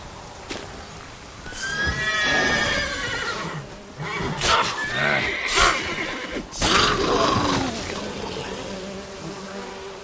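Roach, the horse in The Witcher 3, gives a loud, drawn-out neigh with wavering whinnying tones, followed by snorts and a second shorter whinny, close and clear against a faint buzzing ambience.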